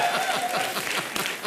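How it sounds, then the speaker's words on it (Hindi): A studio audience at a comedy show claps energetically, individual hand claps audible within the steady applause, with a sharper burst near the end. "जोरदार तालियां होनी चाहिए"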